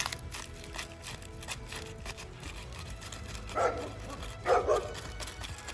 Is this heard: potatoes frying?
no